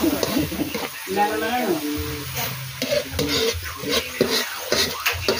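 Aromatics sauté in a pan for Pangasinan-style buridibud vegetable stew, with a steady, close sizzle running throughout while people talk over it.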